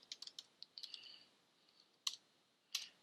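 A computer keyboard is tapped at close range, a quick burst of light clicks followed by two sharper isolated keystrokes, faint and without talk.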